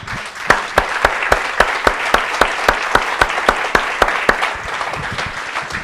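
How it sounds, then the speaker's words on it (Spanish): Church congregation applauding the Lord during a sermon: sustained crowd clapping with a pronounced steady beat of unison claps cutting through the dense applause, fairly loud and close. "démosle un aplauso al Señor."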